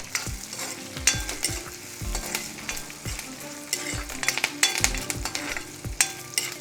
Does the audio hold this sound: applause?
no